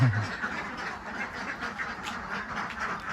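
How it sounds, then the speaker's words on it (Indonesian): Ducks quack repeatedly in a noisy, continuous chorus, close by and fairly loud. "Oke, jadi ini bebek saya."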